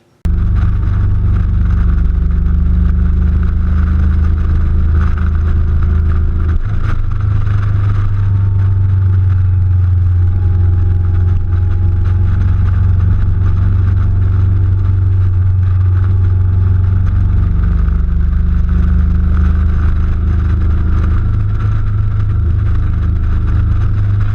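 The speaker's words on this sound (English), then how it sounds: "This Kawasaki Vulcan Vaquero looks great, and it rides great." A Kawasaki Vulcan Vaquero motorcycle rides along with its engine droning loud and steady, a low throbbing hum with mild shifts in pitch and constant wind rush throughout.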